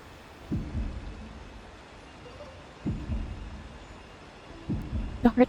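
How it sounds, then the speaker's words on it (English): Heartbeat sound effect in the Honkai: Star Rail video game, three deep, slow thumps spaced a couple of seconds apart over a low background hum, followed by a brief brighter accent at the end. "The heart beating"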